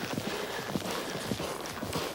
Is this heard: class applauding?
no